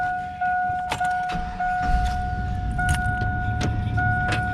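A white Toyota Camry with a no-crank fault backs out, a steady low engine hum running under a continuous two-tone electronic chime, with a few clunks and taps.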